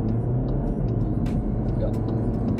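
Car engine during a driving test, a steady low rumble that builds slightly as the car picks up speed, heard from inside the cabin with faint clicks and road noise on top.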